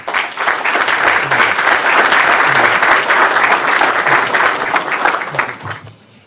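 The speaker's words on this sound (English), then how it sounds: "Let's take a round of applause to welcome Rabbi Tovia Singer." Applause welcoming Rabbi Tovia Singer to a lecture, a dense, sustained round of clapping from a large audience that fills the room and fades at the end.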